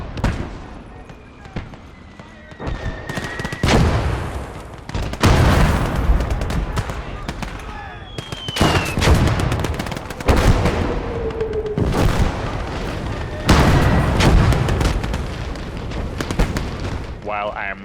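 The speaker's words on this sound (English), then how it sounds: "Suddenly my soldier got caught in an intense firefight," A World War II firefight in the video game Gates of Hell. Loud, booming gunshots and blasts come in irregular bursts, some close together, with reverberant tails between them.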